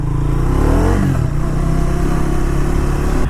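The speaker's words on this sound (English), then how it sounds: "Now let's go for a short ride and hear out how the bike performs." A Triumph Tracker 400 motorcycle being ridden, its engine note climbing as it accelerates then settling into a steady loud drone with wind rush, heard close up throughout.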